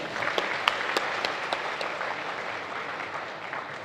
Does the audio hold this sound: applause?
yes